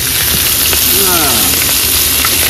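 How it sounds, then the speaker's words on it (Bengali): Food frying in a pan during preparation of crab malai curry in a Sundarbans forest setting, with black cumin about to go in; a steady, loud sizzle runs throughout, with a faint voice briefly over it. "মোটামুটি হালকা ভাজা হয়ে গেছে, এবার দিয়ে দেবো কালো জিরে"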